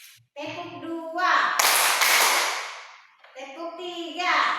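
Children in a classroom clapping game clap together in a quick cluster of loud claps, bracketed by a voice calling out before and after.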